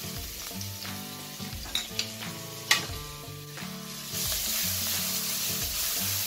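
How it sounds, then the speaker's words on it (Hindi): Cumin seeds with ginger-garlic paste sizzle in a tablespoon of hot oil in a kadai while momo masala is made; a steady close frying hiss with a few sharp crackles and stirring scrapes, no voices. "कढ़ाई में 1 टेबलस्पून तेल में 1 टीस्पून जीरा, अदरक लहसुन का पेस्ट या ग्रेटेड अदरक लहसुन"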